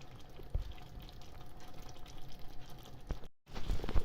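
Ukrainian-style pilaf simmering in a pot on minimum heat, a faint soft bubbling with irregular small pops and a low steady background.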